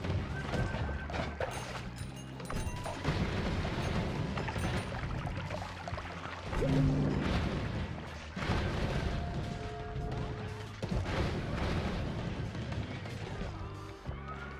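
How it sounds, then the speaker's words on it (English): Dense, chaotic bursts of explosions and crashing debris from the game Noita, with spell effects and crumbling terrain piling up in a continuous loud barrage. "And everything is exploding, including my computer."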